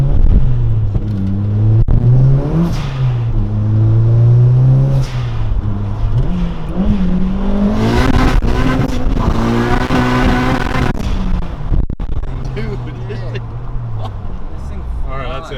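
A turbocharged Honda Civic engine revs hard on a dyno, its note climbing and falling through loud, sustained pulls nearby, with people talking over the roar.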